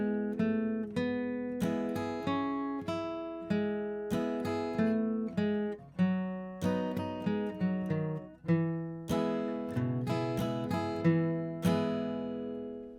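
Guitar picking the opening melody of a song slowly, steady single-note plucks over bass notes ringing out clearly with no talking.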